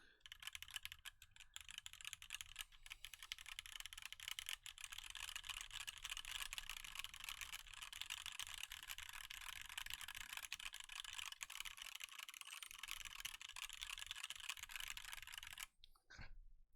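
CJ stock switches clack quickly and continuously under typing on a Clipper T keyboard with a full aluminium tray-mount case, carbon fibre plate, hot-swap PCB and GMK keycaps. The keystrokes are soft and even, with a brief pause near the end.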